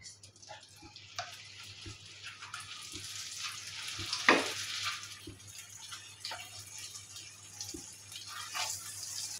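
Boiled sweet potatoes hit a frying pan for sweet potato halwa, bringing a continuous sizzle with scattered stirring scrapes and a brief louder splash midway, heard close with no voices.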